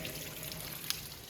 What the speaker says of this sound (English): And it is pouring the water.